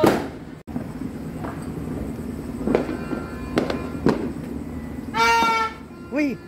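Fireworks and firecrackers burst outdoors during a holiday in the Philippines, with several sharp cracks spaced a second or so apart, then a whistling rocket and a shorter whistle, while people talk and exclaim nearby.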